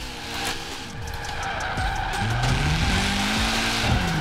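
A car drifting in Forza Horizon 4, with a steady engine roar under long, wavering tire squeals that rise and bend as the car slides sideways and straightens out, loud and continuous.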